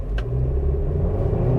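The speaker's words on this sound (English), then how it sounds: "put it into Sport Plus mode. I'm going to floor it" A 2021 Mercedes C300 4Matic with a 2-liter engine pulls hard at full throttle in Sport Plus mode, a steady close cabin rumble with rising engine drone and no talking.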